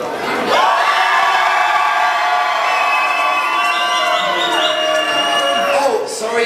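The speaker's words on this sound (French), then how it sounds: "le monde qui crie là" A loud crowd shouts and cheers continuously at a dance festival competition as a duo is announced winner, dense whooping and screaming held at full level throughout, with excited voices mixed in.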